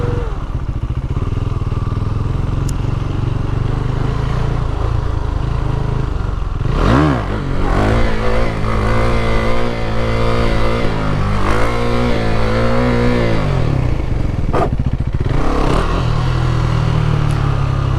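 A KTM Duke 390 motorcycle engine idling and revving during stoppie practice, loud and close throughout, with blipping throttle and a rising rev around the middle, plus some rattling and scraping.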